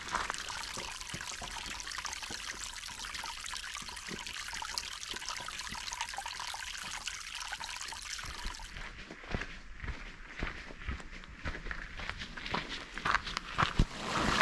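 Stream water trickles and splashes along a hiking trail near Ochigataki waterfall in the Konze Alps, a steady close rushing wash with occasional footstep-like knocks toward the end.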